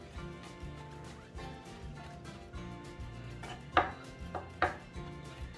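Garlic minced for guacamole with a knife rocked on a cutting board, soft rapid taps followed by a few louder distinct chops, close by with faint background hum.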